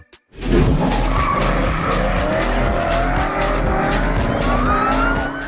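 Tires skid and squeal continuously in the Car Driving Simulator Evo mobile racing game as the engine revs hard, a loud, sustained screech with rising engine tones and no talking.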